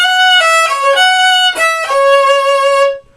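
Solo violin plays the opening measure of a chorus, a short run of clear bowed notes with several note changes and one brief bow break, loud and close, ending in silence.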